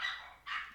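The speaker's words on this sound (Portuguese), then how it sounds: "Eu vou tirar o áudio porque minhas cachorras estavam latindo na hora do vídeo" Two pet dogs barking indoors, two sharp close barks spaced about half a second apart, loud against an otherwise quiet room.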